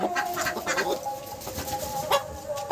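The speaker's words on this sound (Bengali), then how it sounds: "আজকে সব মুরগিগুলোকে ধরছি, দেখে ভয় পেয়ে যাচ্ছে" Domestic hens on a home farm cluck and squawk in agitation as they are caught, several birds calling in quick, overlapping bursts close by, with no talking.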